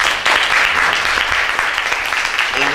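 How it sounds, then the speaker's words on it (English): An audience applauds a panelist at a youth council event, with steady, full clapping from many hands that lasts throughout at an even, loud level. "Let's give her a round of applause."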